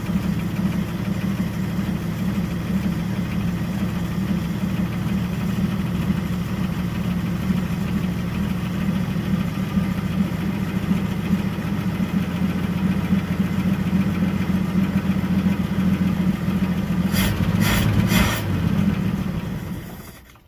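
An old carbureted 1976 Ford truck engine idles with a steady, low, tractor-like rumble that holds for the whole stretch. A few sharp clicks come near the end before it cuts out.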